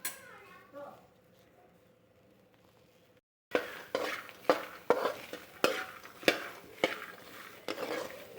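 Corn frying in oil in a pan, a quiet stretch giving way to repeated stirring scrapes and clinks over a steady sizzle, close and moderately loud.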